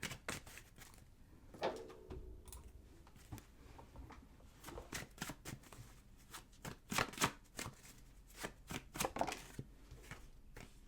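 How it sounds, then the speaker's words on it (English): Tarot cards being shuffled and pulled from a deck, a long run of close, crisp riffling and slapping bursts that repeat irregularly, some louder snaps near the end, with no talking. "let's go ahead and pull some cards for you guys and see what else wants to come through"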